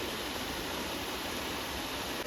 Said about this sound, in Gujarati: અવાજ બી એનો પાણીનો સાંભળો.